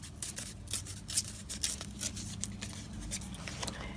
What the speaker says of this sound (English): I'm going to tear across